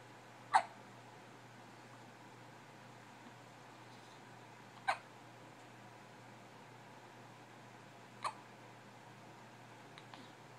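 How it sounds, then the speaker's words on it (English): A baby hiccups four times, each a short sharp catch spaced a few seconds apart, faint and close against a quiet steady hum of room noise. "I'm so sorry that you got the hiccups."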